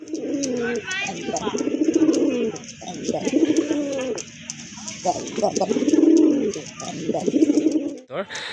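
Madrasi Golla pigeons, a breeding pair, give repeated low cooing calls in steady rhythmic bouts close to the microphone, with someone talking over and between them.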